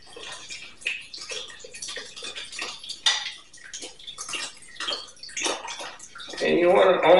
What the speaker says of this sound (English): And we're going to add water